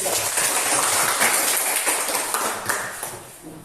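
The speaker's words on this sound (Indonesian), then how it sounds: "Kita beri tepuk tangan untuk kelompok 3." Classroom applause for the third student group during a teacher-training presentation, a steady dense patter of clapping filling the room and fading slightly toward the end.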